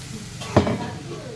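Spice paste with turmeric powder sizzles softly in a pan for stuffed pointed gourd, with a single scrape of a spoon stirring it midway through.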